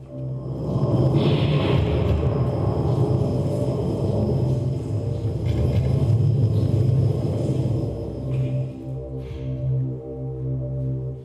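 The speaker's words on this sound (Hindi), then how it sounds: "आंधी, तूफान, बादल की गरज, बिजली की चमक, इन सब के बावजूद हम अंदर आ ही गए" Thunder and storm sound effect from a Hindi radio play: a loud, continuous low rumble that swells and rolls for about eleven seconds with no voices over it.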